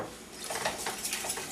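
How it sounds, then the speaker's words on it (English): A whisk scrapes and clinks through a half-and-half mixture in a pan, soft rapid metallic strokes close by, steady and quiet with no talking. "you're going to whisk this whole thing together"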